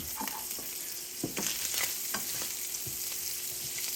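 Butter melting in a pan of sausage gives a steady close sizzle, broken by scattered scrapes and clinks of stirring.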